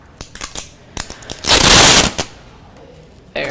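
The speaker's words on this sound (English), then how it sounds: "let's see how this packing tape goes" Clear packing tape being pulled off the roll and pressed down, a series of short sticky crackles followed by one loud sustained rip near the middle and another brief tear at the end, no voices.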